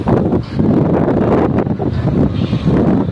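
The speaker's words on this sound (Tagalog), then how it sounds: "Medyo malakas yung hangin dito kasi nandito tayo sa rooftop." Strong wind on a rooftop buffets the microphone in a continuous loud roar, gusting unevenly throughout with no voices.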